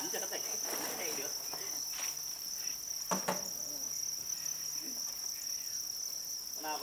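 Thai crickets on a cricket farm chirp in a steady, high, dense drone, many insects sounding together close by, with faint voices now and then.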